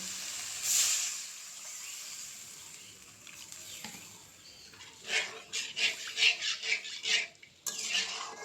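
Water goes into a pan of frying spice masala for an egg curry, giving a sharp hiss followed by quieter sizzling, then a run of bubbling, spluttering pops near the end.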